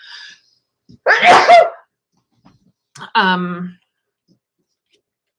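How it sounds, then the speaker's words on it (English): A single loud, close sneeze bursts out after a brief breath, followed moments later by a short voiced sound, with quiet gaps around them. "I'm going to sneeze."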